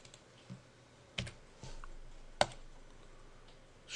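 Several sparse, faint keystrokes tap on a computer keyboard, spaced irregularly with quiet gaps between them, in a quiet room.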